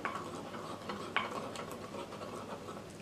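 A spoon stirs a mixture with extra virgin olive oil in a bowl, making soft, continuous scraping and swishing with a few light clinks against the side, fairly quiet and close, with no talking.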